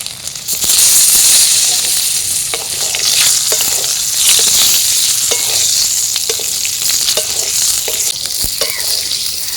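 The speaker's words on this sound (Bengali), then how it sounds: "এবার আমি এর মধ্যে আলুগুলোকে ভেজে নেব" Potatoes fry in a pan with salt and turmeric, a loud, close crackling sizzle broken by sharp pops and spatula scrapes as they are stirred, with no talking.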